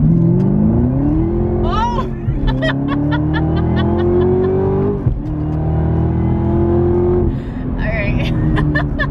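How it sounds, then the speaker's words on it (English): A 2019 Camaro ZL1 1LE accelerating hard with its tires spinning, a loud close engine roar climbing through the gears with a brief dip between shifts, while a person exclaims once inside the car. "Did not expect my tires to be spinning like that, but I managed to control it."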